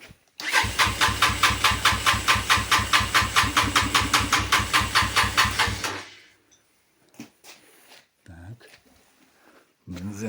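A Kovi 250/300 motorcycle engine cranks over in rapid, even pulses for about six seconds during carburetor tuning, then cuts off, leaving quiet with a few scattered knocks and clicks.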